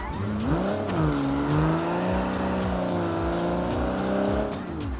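Custom green car driving fast at around 60 mph, a steady loud engine drone with rising and falling pitch as it accelerates and shifts, continuous and close throughout.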